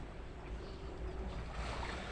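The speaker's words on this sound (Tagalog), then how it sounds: "inabutan pala ako ng ulan dito, tsaka malakas na hangin." Strong wind roars steadily against the microphone while rain falls by the water on a fishing trip. The rushing noise is broad and constant, with no voices.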